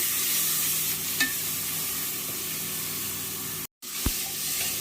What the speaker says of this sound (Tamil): பூண்டு போட்டு கொஞ்சம் வதக்குவோம்